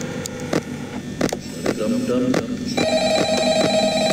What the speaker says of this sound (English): Can I pick up the phone yet?